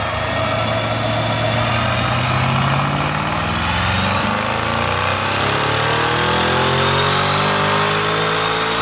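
An 800 hp Mercedes-AMG E63S W213 with Stage 2 tuning accelerates hard, its loud, close engine roaring continuously and rising in pitch through the gears, with no talk over it.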